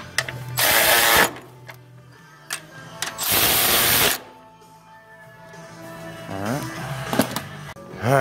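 Bolts being tightened during a 2009 Honda Accord engine installation: two loud, sustained bursts of an impact or power tool whirring, separated by quieter clicks and clanks of handling nearby.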